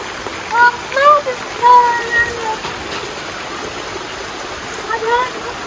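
Rushing rainwater pours past in a fast, continuous wash during a downpour in hot sunshine, while people talk over it.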